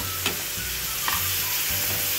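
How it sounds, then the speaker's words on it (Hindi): Chopped onions sizzle steadily in a hot pan with oil for a Spanish-style breakfast, a dense close frying hiss broken by a couple of soft stirring clicks, with no voices. "अब इनको प्याजों को मैं अच्छी तरह फ्राई कर लूँगी।"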